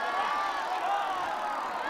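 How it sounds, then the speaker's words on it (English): A crowd cheers continuously at a Quidditch match in the Harry Potter PlayStation 1 game, a steady loud roar of voices with no pauses. "The crowd is on its feet."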